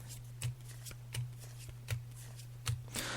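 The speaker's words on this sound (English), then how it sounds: "so I'm just shuffling the cards now, Tracy." Tarot cards shuffled and laid out in quiet, with four soft riffling bursts spaced about three-quarters of a second apart over a steady low hum.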